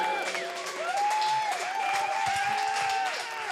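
An audience at an open mic night at Jirani Coffeehouse applauds and cheers steadily, with sliding whistle-like whoops rising above the dense clapping throughout.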